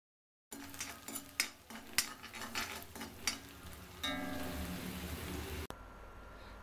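Garlic sizzles in a pan while being fried for a post-delivery lehya, with metal spoon clinks and stirring scrapes early on, then a steady close sizzle.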